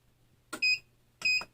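Two short electronic beeps from a heat press sound close by, each a brief high-pitched tone separated by a moment of quiet.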